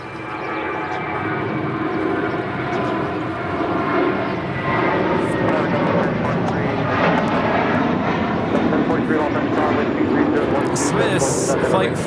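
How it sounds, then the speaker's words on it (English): A Norse UK Boeing 787-9 Dreamliner takes off, its jet engines a loud sustained roar that swells and holds, with a broad rumble and a rising whine heard from an airport viewing spot. "flight 712, taking off to London Gatwick, operated by Norse UK. It's a 787-9 Dreamliner."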